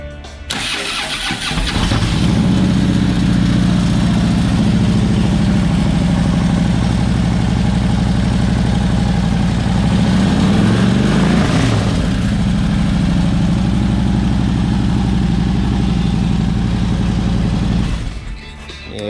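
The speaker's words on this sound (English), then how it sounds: "your Vance & Hines is going to be nice loud exhaust" A 2013 Harley-Davidson Street Glide FLHX with Vance & Hines exhaust starts up and settles into a loud, steady, deep idle with a throbbing pulse close by, shutting off near the end.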